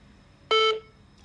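A voicemail system sounds a single short electronic beep before message recording, a clean tone of about a quarter second, with a faint click after it.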